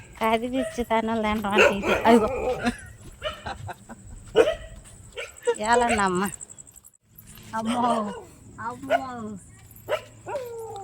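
Dogs bark and yelp in short bursts, with whiny yips mixed in, while people talk nearby.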